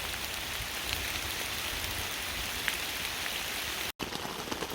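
Steady rain patters on a hot tent during a camping rain storm, a soft, even hiss of drops on fabric with no voices and one momentary dropout near the end.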